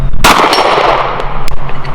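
A 10mm Glock 20 pistol fires one loud, sharp shot at an outdoor range, and the steel target clangs and rings briefly afterward.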